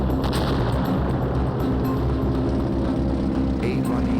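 Continuous rumbling barrage of artillery and gunfire in a Vietnam War battle, dense low booms and crackle layered without pause, loud and sustained throughout.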